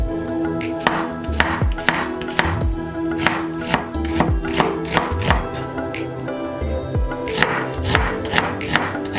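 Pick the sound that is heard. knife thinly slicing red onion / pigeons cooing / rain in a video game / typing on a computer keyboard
knife thinly slicing red onion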